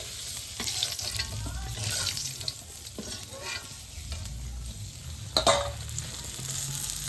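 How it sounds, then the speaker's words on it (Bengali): Fish frying in a pan of oil, a steady close sizzle with scraping and stirring clatter throughout, plus a sharper clink of utensil against pan midway; no voices. "মাছ ভাজা হয়ে গেছে, নামিয়ে নেব।"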